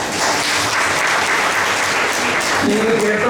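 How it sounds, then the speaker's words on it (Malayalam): A Malayalam retreat congregation claps hands loudly and continuously, dense applause throughout, with a voice briefly rising beneath it toward the end. "ഒന്ന് കൈയടിച്ചേ."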